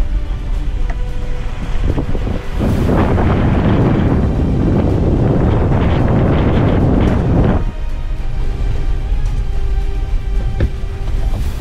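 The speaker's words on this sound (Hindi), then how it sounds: "तेज़ ठंडी हवा चल रही है।" Strong cold wind roars across the microphone outdoors on a bad, wet road, a loud, constant rushing blast that swells in the middle and then eases back to a steady buffeting.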